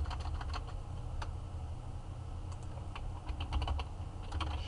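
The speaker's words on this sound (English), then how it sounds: "So let me just type that in." Steady typing on a computer keyboard, with dense, irregular bursts of close key clicks continuing throughout while entering a Cisco RADIUS configuration value.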